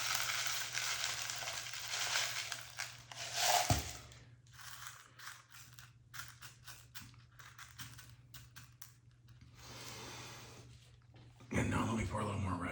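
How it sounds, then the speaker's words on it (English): Broken black glass pieces poured into a resin skull mold give off an irregular clattering, rattling sound in bursts and trickles, with a person talking in between. "Let me pour a little bit more glass in here."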